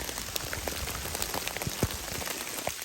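Heavy rain falls steadily on surfaces outdoors while mushrooms are being gathered, a dense constant hiss with scattered sharper drops and patters throughout, no voices.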